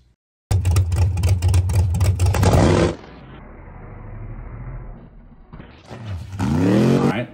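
A 4-link drag car with the top bar in the second hole from the bottom launches down the track: a loud, close engine roar builds for over two seconds, drops to a lower rumble, then roars again near the end.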